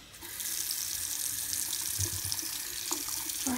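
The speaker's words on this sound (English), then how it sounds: "Yep, we gotta wash our hands." A tap runs into a sink while hands are washed, making a steady, close gush of water with a few splashy changes as the hands move under the flow, and no voices.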